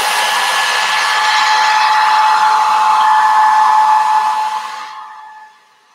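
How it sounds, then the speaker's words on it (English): A hair dryer blows with a steady, loud whirring hiss for several seconds, then winds down and cuts off. "I'm going to turn on my hair dryer."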